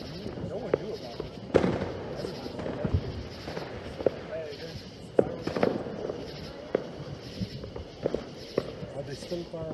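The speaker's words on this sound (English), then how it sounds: "Are they still fireworks over the lake?" Distant July 4th fireworks go off as scattered sharp pops and booms, about a dozen irregular bursts, faint with soft voices and outdoor ambience.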